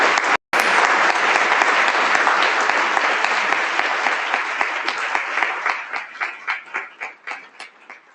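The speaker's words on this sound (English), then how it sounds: "Let's give them all a round of applause," A forum audience gives a loud round of applause that stays dense for several seconds, then thins into separate claps as it dies away.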